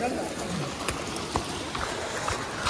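Water from a waterfall pours steadily inside a robbers' cave, a continuous rushing wash with a few brief louder splashes and some voices faintly underneath.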